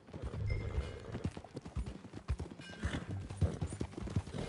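Horse hooves clip-clopping at a steady ride in the Red Dead Redemption 2 video game, a rhythmic series of close hoof beats with a faint whinny, alongside low background sound and no clear speech.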